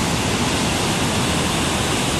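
Waterfall at La Olla, a continuous, loud roar of falling water that fills the whole stretch with a steady broadband rush, no voices.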